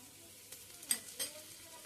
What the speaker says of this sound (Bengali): তারপর একটু নাড়িয়ে নিলাম হালকা ভাজা ভাজা হলে